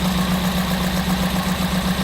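A Daihatsu Hijet 1.3 EFI 16-valve engine idles roughly with a misfire, giving a steady close-up mechanical drone with an uneven low hum and no voices.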